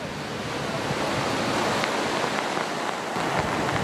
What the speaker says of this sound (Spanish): Este es el aspecto del río Esera a su paso por Castejón.